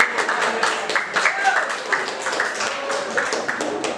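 Audience clapping for a group's answer during a teachers' Indonesian-language training session at a Jakarta madrasah, a steady patter of many hands with voices mixed in throughout.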